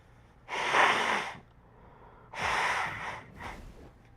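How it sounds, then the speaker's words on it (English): A person blows their nose in two loud, breathy bursts of about a second each, followed by a shorter third puff, close to the microphone with quiet gaps between. "I got to blow my nose again"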